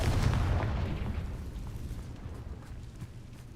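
A Confringo fire spell explodes in the Hogwarts Legacy video game, opening with a loud, deep boom that rolls off into a fading crackling rumble. Faint pops can be heard as it decays, with no talk.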